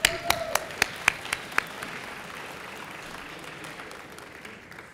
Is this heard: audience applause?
yes